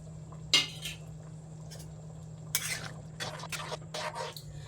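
Fried eggs go into a pan of egg curry in a home kitchen, bringing a couple of soft clinks of utensil on pan and light stirring and scraping over a steady low hum.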